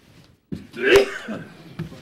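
A single sneeze at a city commission meeting: a short sharp intake then an explosive burst, with a smaller catch afterward, heard at moderate distance in a quiet room with no speech.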